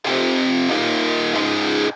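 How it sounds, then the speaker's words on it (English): Heavily distorted electric guitar through an Emissary amp simulator for a metal song, a dense sustained chord shifting pitch twice, loud and alone. "But Emissary gives you the distortion."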